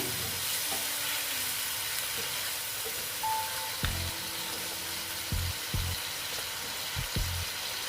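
Ground spices with turmeric and a splash of water fry in a pan for a vegetarian banana-flower mocha ghonto, a steady close sizzle broken by a few sharp scrapes and knocks of a stirring spoon.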